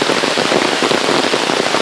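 Rain drums steadily on an umbrella outdoors, a dense close patter of many drops that fills the clip evenly, with no voices.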